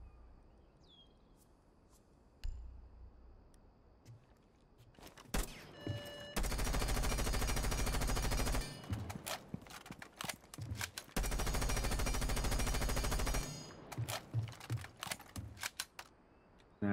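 Gunfire from the PDW fitted with an extended barrel in Rainbow Six Siege, with two long sustained automatic bursts, each a few seconds, separated by scattered single shots and short clicks, loud and close with no talk.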